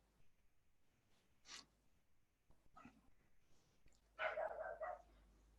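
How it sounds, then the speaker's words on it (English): A neighbor's dog barks in the distance, a few scattered faint yips followed by a louder, closer run of rapid barks near the end, with quiet pauses between. "That's my neighbor's dog barking."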